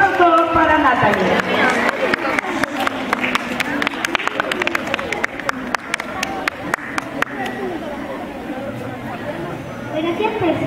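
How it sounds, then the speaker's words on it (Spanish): Applause for a third-grade student about to recite a poem at a school declamation contest, with scattered sharp claps and rhythmic clapping over crowd chatter and an announcer's voice. "Fuerte los aplausos para Natalie."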